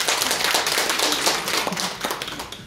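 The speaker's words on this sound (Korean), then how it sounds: "박수 한 번 더 치겠습니다." A seated audience at a Seoul Press Center policy forum claps loudly and continuously in a dense burst of hand claps lasting under three seconds, with no voices over it.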